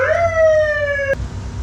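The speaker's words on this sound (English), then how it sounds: "All right, so here's the siren." A freshly installed siren wails loudly and close in a rising-then-steady electronic tone, cut off abruptly after about a second.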